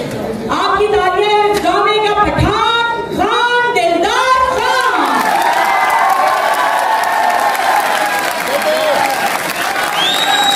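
Theatre audience at a Rawalpindi arts council talent show breaks into loud applause and cheering, starting with rhythmic, voice-like shouts that give way to a dense, sustained roar of clapping and whoops.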